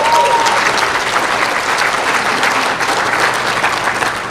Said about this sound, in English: And if you're applauding,